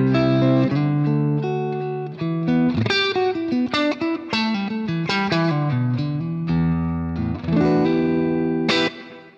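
An electric guitar with its top humbucker split to a single coil plays through a Great Eastern FX Design a Drive pedal: a quick melodic run of distinct notes, bright and somewhat thin with a slightly driven edge and reverb tail, alone without speech.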